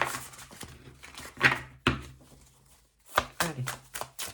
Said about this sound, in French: Je vais bien mélanger le jeu.